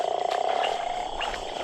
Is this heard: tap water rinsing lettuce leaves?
no